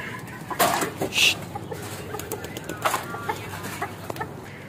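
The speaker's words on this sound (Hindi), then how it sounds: "यहाँ मुर्गियाँ आ गई, इनके पिंजरे में सारे दाने खा गए हैं।" Hens cluck in short bursts with a few sharper squawks, fairly close, over a faint steady background hum.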